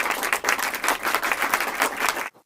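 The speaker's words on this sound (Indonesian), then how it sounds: "Tepuk tangan dulu untuk kita semua." Applause in the Sakura School Simulator game, a dense burst of clapping that runs steadily for about two seconds, then cuts off abruptly into a brief silence.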